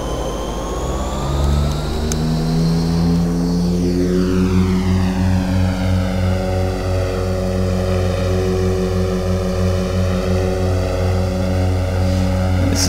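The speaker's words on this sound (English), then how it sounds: "let's go ahead and power her up for takeoff" In the Flight Simulator X video game, a heavy aircraft's engine powers up for takeoff, a loud continuous drone with harmonic tones that sweep and settle as the revs rise, holding steady throughout without speech.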